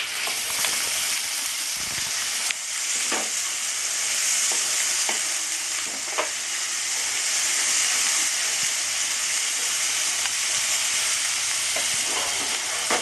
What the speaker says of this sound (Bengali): এটা মশলা ছাড়া অবধি আমি এইভাবে কষতে থাকবো